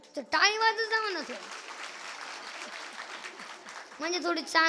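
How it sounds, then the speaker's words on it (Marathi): An audience claps along during a comic Marathi kirtan devotional performance, steady claps mixed under loud singing voices that open and close the passage. "टाळी वाजत जा म्हणत"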